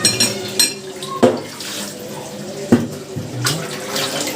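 Glasses being washed under a running tap at a kitchen sink, with a steady water stream and a few sharp clinks of glass against glass or the sink; a voice speaks briefly.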